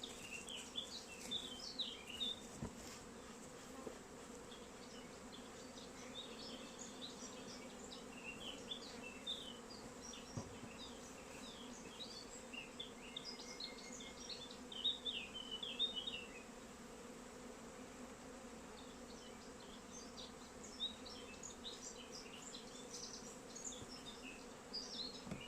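Honeybees buzzing steadily around an open beehive during a frame-by-frame inspection, a constant hum with scattered nearby wingbeats rising and fading, no talk.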